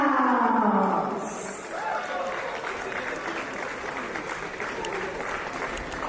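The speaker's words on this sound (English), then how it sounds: "Let's have the biggest round of applause" A conference audience at a business networking conclave bursts into sustained applause, loud and dense at first with a cheering roar, then settling into steady clapping across the room.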